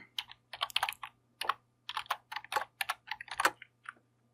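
Quick bursts of computer keyboard typing while entering a spreadsheet formula, crisp close key clicks in uneven clusters with short pauses, over a faint steady hum.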